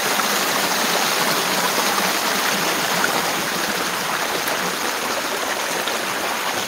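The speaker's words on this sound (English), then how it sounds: "And then there's our creek." A widening creek flows continuously, a steady close rush and babble of water over wood and clay banks, loud and unbroken with no talking.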